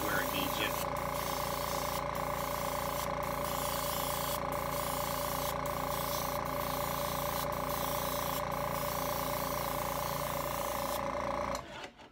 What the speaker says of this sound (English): we're going to spray it again with the burnt sienna. Give it a light coating.